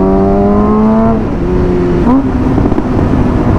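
Suzuki GSXR sport motorcycle engine with a very high idle, roaring loudly and close, holding a steady drone that shifts pitch partway through before settling again.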